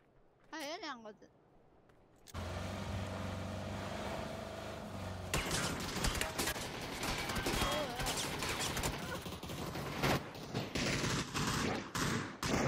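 Rapid P90 submachine gunfire in a shooter video game: dense, crackling bursts that open after a brief quiet moment and continue loudly to the end, with players talking over the shots.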